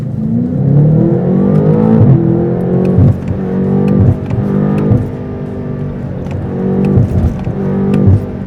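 A BMW M8 Competition coupe accelerates hard with manual gear changes, its engine roaring loudly and close, rising in pitch through several gear shifts with brief dips between pulls.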